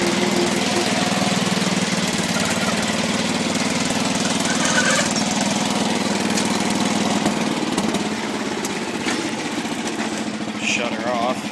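A John Deere 210 lawn tractor engine in need of an overhaul and smoking badly runs at higher throttle, a loud steady close drone with a faint knocking rattle, continuous throughout.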